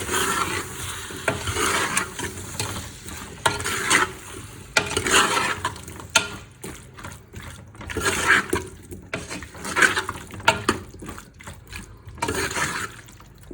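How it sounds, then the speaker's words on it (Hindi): Potatoes are stirred into a sizzling spice masala for a carrot, potato and fenugreek sabzi, with repeated scraping stirs and bursts of frying crackle close by, rising and falling over about thirteen seconds. "आलू हमारे जा चुके हैं, इनको मिक्स करते हैं।"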